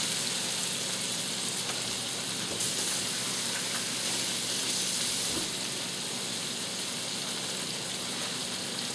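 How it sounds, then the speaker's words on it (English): Pork chops fry in a pan with a steady, dense sizzle and crackle that holds at an even loudness throughout, close and continuous with no talk. "So you got your pork chops in the frying pan."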